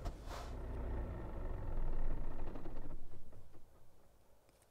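A truck engine idles in Euro Truck Simulator 2, a low steady rumble that swells briefly and then tapers off, with a short hiss near the start.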